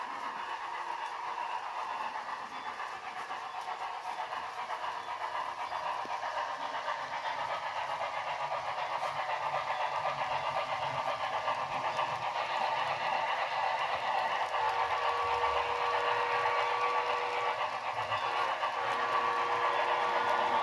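A model train locomotive fitted with an older TCS WowSound sound decoder runs with a steady, hissy engine rumble that holds at an even level throughout, with no talk over it.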